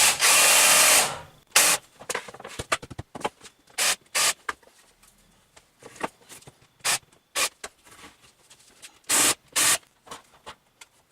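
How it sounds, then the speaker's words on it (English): A power drill countersinks drilled holes in wood pieces on a workbench, with a loud sustained whirr at first and then a series of short, sharp drilling bursts with pauses between, close up and alone. "I'm going to now countersink the holes I've cut."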